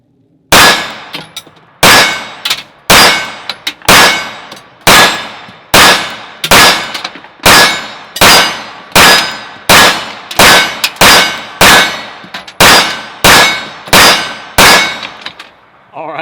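A CZ75 SP-01 Tactical 9mm pistol fires cheap 115 grain range ammo in a steady string of about twenty loud, sharp shots, each cracking close and ringing briefly before the next, with no talking between them.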